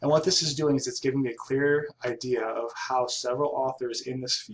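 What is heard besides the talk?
No distinct noise like a dog, phone or traffic.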